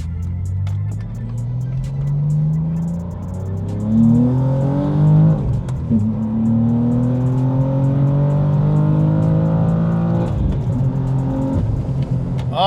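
A manual BMW M2 fitted with a short shifter accelerates hard through the gears, its engine note climbing steadily, then dropping sharply at each quick shift before rising again, loud and close from inside the car.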